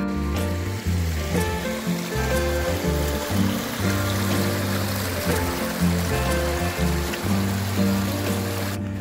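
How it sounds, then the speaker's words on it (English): A creek flowing along a hiking trail, its water rushing and babbling steadily and loudly up close, with no talk over it. "It's like a creek bed we're hiking in."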